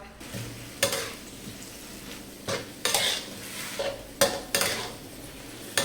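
A spatula scrapes and clatters in a wok as kale is stir-fried with fish sauce and seasoning, a steady sizzle underneath and sharp metallic strikes every second or so.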